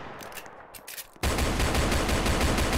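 Dense automatic gunfire bursts out loud in Roblox Brookhaven after a quieter lead-in, a rapid continuous fusillade sustained to the end.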